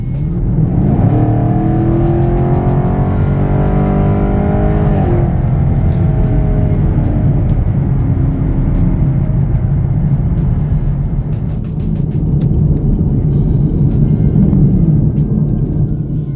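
A 2023 Chevrolet Camaro LT1 accelerates hard, its V8 climbing through the revs, easing briefly at a shift and then pulling again in a steady, loud, close rumble, with no talking.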